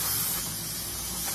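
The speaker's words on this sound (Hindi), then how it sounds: "तो भाई ये है अपनी स्टीम वॉश की स्प्रे मशीन" A steam wash spray machine used for dry car cleaning lets out a loud, continuous, close-up hiss of steam that stays even for the whole short burst.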